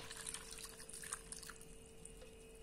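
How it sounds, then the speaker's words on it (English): Cold water poured from a tap into a microwave-safe bowl of McCain diced beetroot, a soft, steady trickle and splash with faint drips, running continuously at low volume in a quiet kitchen. "Pour in cold water."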